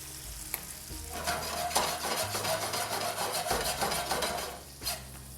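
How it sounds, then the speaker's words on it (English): Cooked pasta sizzles in brown butter in a pan, a steady hiss broken by clinks and scrapes of a utensil against the pan as it gets tossed; nobody speaks. "our pasta cooked in 3 minutes, and I'm gonna add it to the brown butter"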